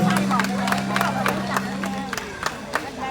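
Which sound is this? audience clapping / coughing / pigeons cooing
audience clapping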